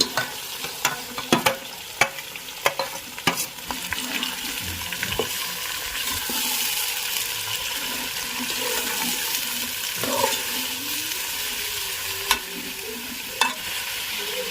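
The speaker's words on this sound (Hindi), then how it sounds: "अब इसमें हम अपना प्याज और मीट दोनों एक साथ डालेंगे" About 1.25 kg of onions and mutton drop into hot spiced oil and fry, opening with sharp clattering stirs and then a steady close sizzle with occasional scraping strokes, with no talk.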